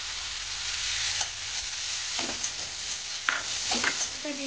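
Sliced onion frying in butter and white oil for a stuffed omelet, a steady close sizzle broken by a few soft scrapes and knocks of a spatula stirring in the pan.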